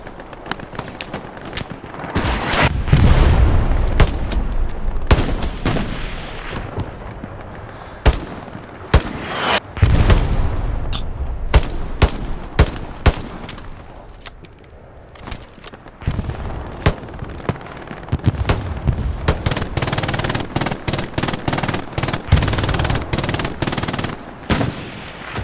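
Gunfire rattles through a Hell Let Loose infantry battle, with loud bursts of machine-gun fire and single rifle cracks in irregular clusters, some near and some distant, echoing over constant background battle noise.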